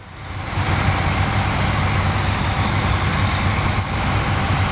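A large truck's engine drones steadily and loudly as it drives through mud in the SnowRunner video game, with no voices over it.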